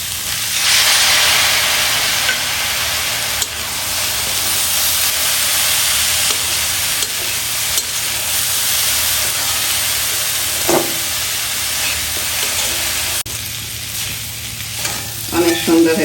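Vegetables with tomato sizzle and bubble in a pan, a steady loud frying hiss with occasional stirring scrapes and clinks, continuous and close with no talking.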